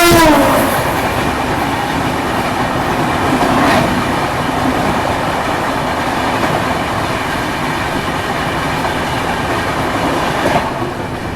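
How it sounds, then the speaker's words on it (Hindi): Loud, sustained roar and clatter of the Puri-to-Howrah Dhauli Express rushing past close by in the opposite direction, with rolling wheel noise, rhythmic clickety-clack and a horn blast at the start. "पुरी से हावड़ा जाने वाली धौली एक्सप्रेस अपनी ट्रेन की रिवर्स डायरेक्शन वाली गाड़ी आ रही है"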